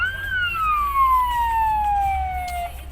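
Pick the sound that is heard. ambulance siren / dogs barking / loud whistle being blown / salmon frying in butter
ambulance siren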